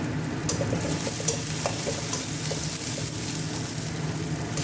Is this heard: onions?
yes